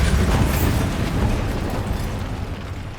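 A Bombarda spell explodes in Hogwarts Legacy with a loud, rumbling boom that begins at full force and slowly decays over about three seconds, with a heavy low-end roar and debris noise and no voices.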